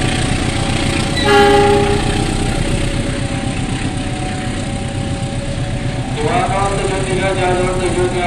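A train passes Bekasi station in Indonesia with a continuous heavy rumble of rolling wagons, broken by two loud, drawn-out horn blasts near the start and near the end.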